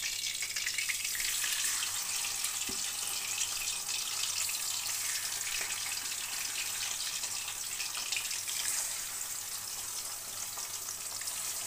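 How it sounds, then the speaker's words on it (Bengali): Bata fish frying in a pan of oil makes a steady, dense sizzling hiss that runs unbroken at moderate level from close by, with no voices. "বাকি মাছগুলো ভেজে নেব।"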